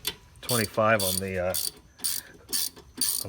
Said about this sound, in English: So we'll get this snugged up